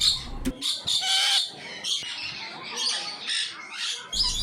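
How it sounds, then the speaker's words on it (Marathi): Harsh parrot squawks and screeches at an aquarium in Konkan, several in quick succession, fairly close and loud, with a few short gaps. "पक्ष्यांचा हा किलबिलाट आपल्याला गावाकडेच ऐकायला मिळतो"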